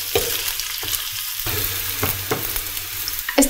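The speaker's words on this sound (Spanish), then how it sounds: "En una sartén echamos un par de cucharadas de aceite y añadimos la cebolla" Onion with a pinch of salt browns in a couple of spoonfuls of oil in a frying pan over medium-high heat, a low close sizzle broken by several sharp spatula clacks and scrapes.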